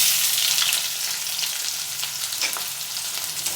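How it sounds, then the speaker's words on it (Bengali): Chopped medium onions sizzle in hot oil in a pan for a Bengali fish alu ghati, a steady close hiss of frying with faint stirring scrapes and no talk. "এবার দুটো মিডিয়াম সাইজের পেঁয়াজ কুচিয়ে নিয়েছি এটা দিয়ে দিচ্ছি"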